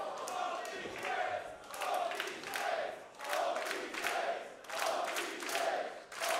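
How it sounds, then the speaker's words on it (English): Crowd at an NJPW professional wrestling match between Jay Lethal and Jay White, roaring in rhythmic swells of about one per second, like chanting or stomping, loud and sustained throughout. "The crowd giving their approval to both athletes"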